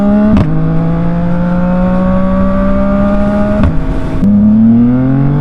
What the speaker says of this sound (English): I'm just rev matching it without the clutch, and it's perfectly smooth